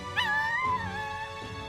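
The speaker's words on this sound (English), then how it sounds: "That sounded like a little puppy or a kitten or something." A brief, high, puppy-like whimper from the Metaphor: ReFantazio video game: one rising whine that wavers and fades over about a second, heard alone and fairly clear.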